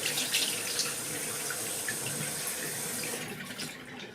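Tap water runs steadily over a foaming soap dispenser top as it is rinsed under a sink faucet, a continuous bright splashing rush, close and fairly loud, with no voices.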